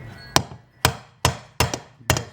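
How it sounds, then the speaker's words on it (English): 28-ounce framing hammer tapping laminate flooring in an old mobile home living room, five sharp close blows at a steady rhythm, each ringing briefly before dying away. "I'm using my 28-ounce framing hammer because it's a little easier to wield"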